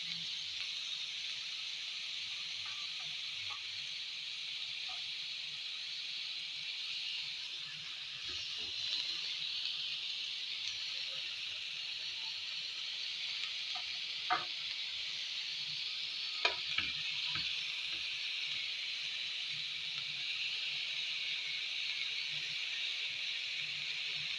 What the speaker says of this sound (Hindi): इस तरीके से हम अपने कबाब जो हैं तवे पे रख देंगे।